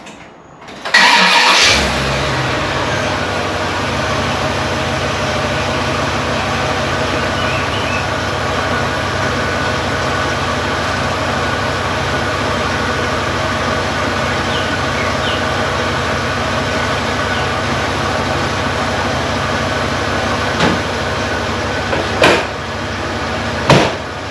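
A car engine, just fitted with a replacement mass airflow sensor, cranks and fires up, then settles into a steady, even idle heard close and loud for over twenty seconds, with a few faint clicks near the end.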